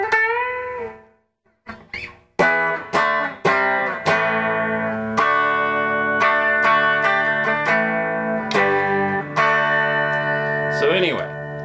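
A Squier Classic Vibe Jaguar electric guitar on its bridge pickup plays through a 1977 Acoustic Control Core 117 solid-state amp with reverb. After a brief gap comes a string of bright, ringing strummed chords, loud and close.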